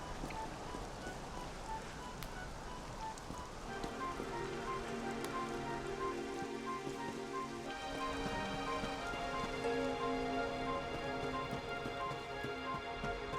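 Rain falls steadily in the video game Dragon Quest XI, a soft, even patter on surfaces that runs quietly throughout beneath gentle melodic game music.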